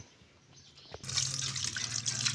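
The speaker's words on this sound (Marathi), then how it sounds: "पाणी टाकायचं" Water is poured into a kadai for a bitter gourd curry, starting suddenly after a quiet moment and then running as a steady, close splashing stream.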